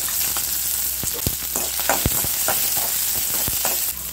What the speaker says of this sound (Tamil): இப்போ இதோட நம்ம அரிஞ்சு வச்சிருந்த வெங்காயத்தை சேர்க்கலாம்.